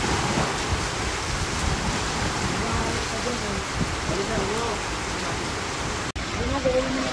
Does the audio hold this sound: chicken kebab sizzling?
no